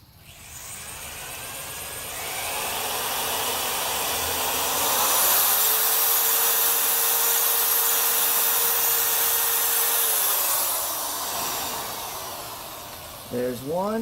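A power drill bores holes near the edge of a wooden board in a workshop. Its steady whine swells and holds for several seconds, then eases off near the end with brief clicks.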